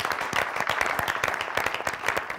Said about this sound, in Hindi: So I believe he deserves a round of applause. इनको तालियां